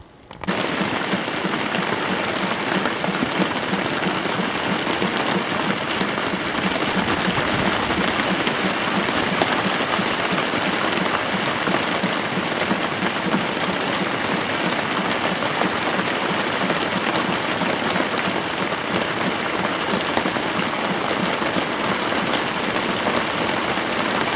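Rain mixed with growing snowflakes falls steadily, a dense, even hiss of drops on surfaces that holds from start to finish with no voices.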